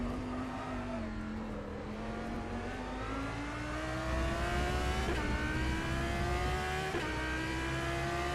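A loud Audi R8 LMS GT3 race car engine in rFactor 2 at Spa-Francorchamps, holding a steady high drone that climbs slowly through a gear, then a quick shift and rising again, with no talk.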